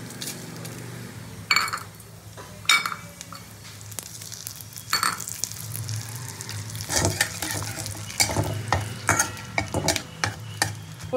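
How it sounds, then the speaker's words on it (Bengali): Whole cumin, dried red chillies and bay leaf frying in hot ghee as a tempering, a steady sizzle broken by scraping stirs and occasional clinks of utensil on pan, close up. "ফোড়নটা ভালো করে ভেজে নেবো।"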